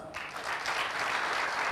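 A crowd breaks into sustained applause, many hands clapping together in a steady, dense wash that swells and holds.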